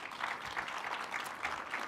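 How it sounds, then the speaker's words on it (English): A brief burst of applause from an audience, steady clapping from many hands at moderate distance, with no voices over it. "Can you just clap for them?"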